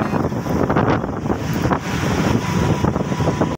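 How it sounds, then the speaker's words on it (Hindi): A strong storm wind with rain blows while someone rides a motorbike. It buffets the microphone in a loud, continuous, gusting roar with no talk. "तो दोस्तों मौसम जो है बहुत ज़्यादा ख़राब हो चुका है, ज़ोर की आंधी चल रही है।"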